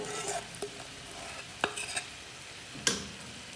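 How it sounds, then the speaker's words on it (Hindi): Tomato puree and a yogurt spice mix hit a hot pan for aloo sabzi, giving a soft steady sizzle broken by several sharp spoon clinks and stirring scrapes. "अब इसमें मैं डालूँगी ये टमाटर की प्यूरी, और इसके साथ ही मैं डाल दूँगी जो मसाला मैंने दही में बनाया था वो डाल दूँगी"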